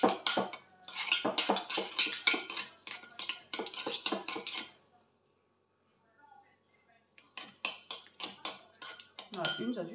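A spoon clinks and scrapes against a bowl while mustard is stirred into a mixture, in bursts of rapid tapping separated by a brief pause, with someone speaking quietly between strokes.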